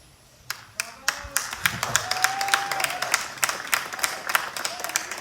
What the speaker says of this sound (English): I think those claps were more for Christine than for me